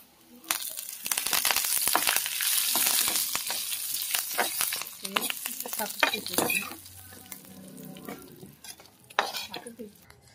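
Cumin, dried red chillies and curry leaves crackle and sizzle in hot oil while being frying for ginger-coriander chutney, with steady close stirring scrapes and occasional clinks of a spoon against the pan, no talking.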